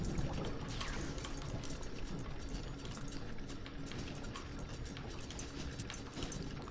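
Liquid flowing through pipes in the BioShock hacking minigame, a steady gurgling, bubbling rush at a constant level throughout with no talk.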